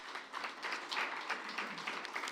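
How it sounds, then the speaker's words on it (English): A small audience at a Seattle cultural candidate forum claps for the organizer's staff; brief, fairly faint applause of scattered hands for a couple of seconds. "let's give a round of applause to my staff"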